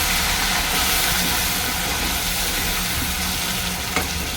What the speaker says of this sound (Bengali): আলুটা একটু ভাজা হলে নুন হলুদ দেবো